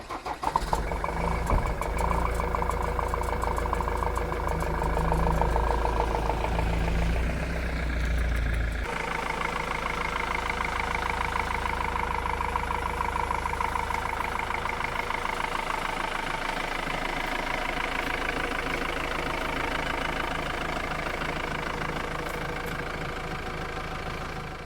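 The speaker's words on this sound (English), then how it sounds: "I have a knocking cylinder or knocking injector in this car." Ford Transit MK7 2.2 TDCi diesel engine idling with a knocking injector, heard close and steady with a dense rumble; a louder, harsher stretch in the first nine seconds gives way to a smoother idle.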